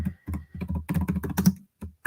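Quick bursts of keystrokes on a computer keyboard, typing a short entry in uneven clusters of clicks with brief pauses, close and clear with no voices.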